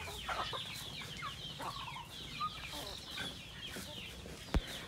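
Chicks on a farm cluck and cheep as feed is given to them, a steady chorus of small bird calls at moderate distance with a sharp knock near the end.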